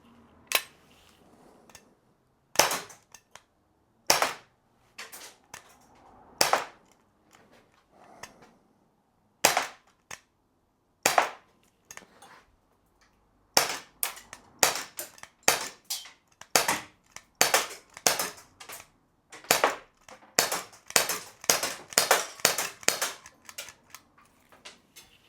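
A Glock 17 Gen 5 BB blowback airgun fires sharp, snappy cracks, sparse single shots at first, then faster strings of rapid shots toward the end, close and loud against a quiet room.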